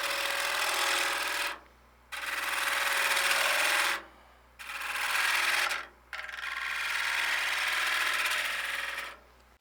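A negative rake gouge scraping wood on a lathe gives a loud, close, rough rasping hiss in four long passes, each cut off by a short pause, over a faint steady machine hum.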